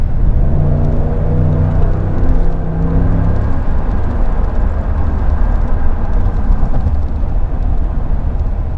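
A Ford F150 pickup truck on the highway, running with the fuel gauge at zero miles to empty, gives a loud, steady engine drone and road rumble from inside the cab, with low tones rising as the driver repeatedly presses the throttle.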